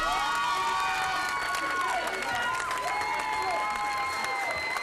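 A large audience applauds and cheers continuously with whoops, a dense crowd roar filling the whole stretch, while a loud high-pitched tone sweeps and warbles over it.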